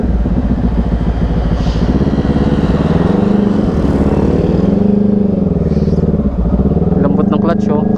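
Yamaha R15M motorcycle on its stock exhaust pipe, engine idling and revving with rising and falling pitch, close and loud, while someone talks over it.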